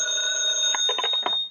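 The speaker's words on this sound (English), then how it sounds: "the other day when his phone rang." A telephone rings in an old radio drama, a short trilling bell burst over a steady electronic tone, close and clear with no voices.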